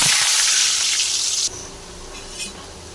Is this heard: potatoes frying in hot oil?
yes